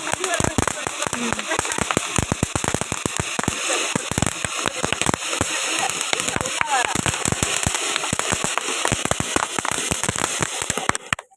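Diwali firecrackers burst in rapid, dense strings of sharp pops and crackles, loud and continuous throughout, ending abruptly.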